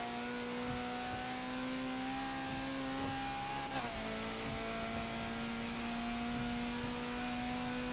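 A Honda CRX engine revving hard in a Forza racing game on a wet Brands Hatch Indy circuit, a steady high whine that dips briefly at a gear change before climbing again, loud and continuous with faint tire noise.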